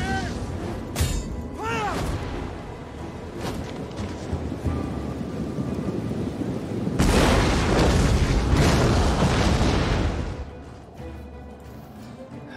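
Howitzer artillery firing and shells exploding in the strategy game Total War: Attila, with deep booms and crashing blasts, including a long, loud, dense barrage midway, over battle ambience.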